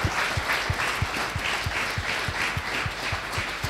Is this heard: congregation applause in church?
yes